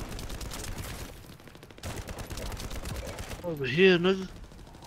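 Bursts of rapid gunfire crackle through a firefight in the video game The First Descendant, moderately loud, while a player's voice speaks briefly over the shooting.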